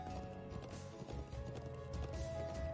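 Rapid horse hoofbeats in the video game Trails of Cold Steel 2 clip-clop steadily at a canter, moderately close, over a tonal background hum.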